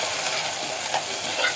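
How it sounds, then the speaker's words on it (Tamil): Garlic, with green chillies, sautéing in hot oil in a pan for fish kuzhambu: a dense, continuous close sizzle and crackle with light stirring, steady and loud with no voices. "பூண்டு கொஞ்சம் வதங்கின பிறகு தான் வெங்காயம் போடணுமே."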